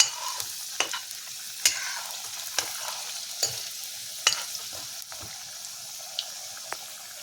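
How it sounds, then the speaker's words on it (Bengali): Potatoes fry and crackle in hot oil while a utensil turns them in the pan, giving a constant sizzle broken by repeated sharp scraping clacks every second or so, with no voices. "এভাবে উল্টে পাল্টে আমি ভালো করে ভেজে নেব।"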